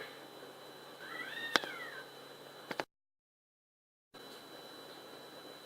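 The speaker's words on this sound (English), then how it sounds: "My cats are fighting." House cats fight indoors, one loud drawn-out yowl followed by a couple of sharp knocks over a faint room hum, then a brief silence.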